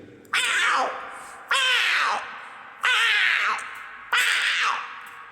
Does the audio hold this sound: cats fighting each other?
yes